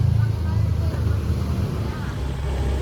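A Honda Beat scooter, restarted after stalling in the rain, runs with a steady, close, low engine rumble, with a voice speaking over it.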